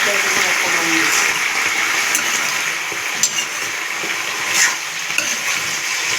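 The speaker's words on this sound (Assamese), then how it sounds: "ধুনীয়াকৈ লৰাই ভালকৈ লাৰি দিছোঁ" Food frying in a pan is stirred and mixed, a continuous close sizzle with scraping and a few soft knocks against the pan, and nobody speaks.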